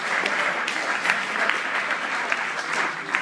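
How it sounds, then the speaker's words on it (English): A small crowd at a Muslim Writers Collective gathering gives steady, even applause, a close, continuous patter of many hands that lasts the whole moment. "Round of applause."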